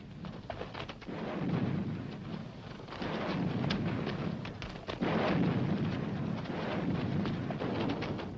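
Battleship Missouri's big guns fire far off in Korea, heard as a low rolling, rumbling thunder in repeated swells of booming under a constant noisy roar, with no speech.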